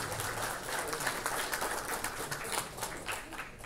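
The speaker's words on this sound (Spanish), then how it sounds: "Un aplauso." Applause from an audience at a swearing-in ceremony for Peruvian regional councillors, as a councillor steps forward to receive a medal; steady, dense clapping fills the moment at moderate distance.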